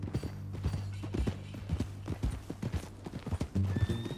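Horse hooves clip-clop in a steady rhythm on the ground in Red Dead Redemption 2, close and clear, with a brief whinny near the end.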